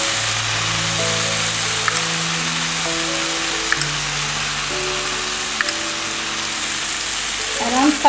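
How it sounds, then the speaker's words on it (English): Masala with cashew nut paste fries in a pan, giving a continuous, even sizzle with a few soft stirring taps and a faint tonal hum behind it. "And again I am going to fry the masala."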